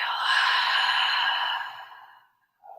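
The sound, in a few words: deep exhale during yoga breathing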